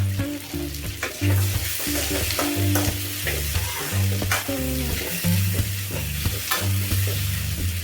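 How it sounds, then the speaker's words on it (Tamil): Onions and garlic frying in a pan for hotel-style kara chutney, a steady close sizzle with repeated scraping stirs of a spatula in an uneven rhythm. "வெங்காயம் வதங்கட்டுங்க வெங்காயம் பொன்னிறமாக வச்சுங்க"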